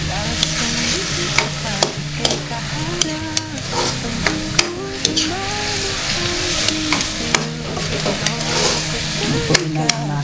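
Garlic butter prawns fry in a hot pan with a constant loud sizzle, broken by repeated sharp scrapes and clinks of a utensil stirring, while a person talks over it.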